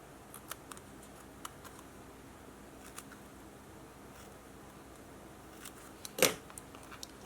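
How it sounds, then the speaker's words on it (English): Faint, sparse clicks and snips in a quiet room, then one sharper, louder cut near the end, like scissors trimming paper. "Let me grab my scissors so I can trim a few more here."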